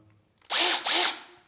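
A repaired DeWalt cordless drill runs in two short bursts close by, its motor whining up to speed, briefly dipping between, then winding down.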